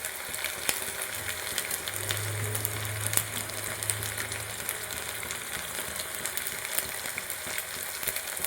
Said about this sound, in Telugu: ఈ విధంగా అల్లం వెల్లుల్లి పేస్ట్ వేసుకున్నాక పచ్చి వాసన పోయేంత వరకు ఫ్రై చేసుకోవాలి.